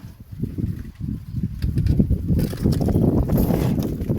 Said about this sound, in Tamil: சூப்பராக காற்று வருது.